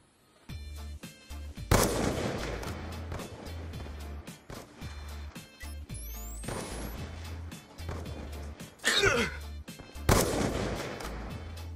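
Loud, sharp sniper rifle shots crack out one at a time in Black Ops 2 trickshotting, each followed by ringing echoes and impact sounds, with quieter gaps, footsteps and game effects in between.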